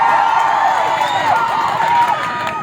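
An outdoor political campaign rally crowd roars with continuous cheering and shouting, a dense, loud wash of many voices with scattered whoops throughout, no single speaker standing out.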